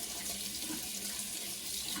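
A whisk is rinsed under a running kitchen tap: a steady, close hiss of flowing water splashing into a sink, with no one speaking.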